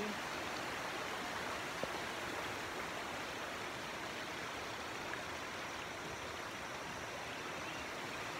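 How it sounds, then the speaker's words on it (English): A flowing stream rushes steadily at close range, a dense, unbroken wash of water noise with no voices over it. "Okay, now I'm crossing a stream."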